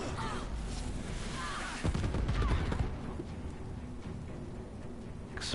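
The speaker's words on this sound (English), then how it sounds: "Explosions everywhere." Dense bursts of gunfire and explosions in the video game Divinity: Original Sin 2, with booms and rapid shots layered together and a louder cluster midway, continuing without pause.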